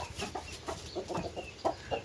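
A rooster and hen cluck in short, irregular bursts while pecking at mixed goat feed on a farm. The calls are close and fairly quiet, with small pauses between them and no talking.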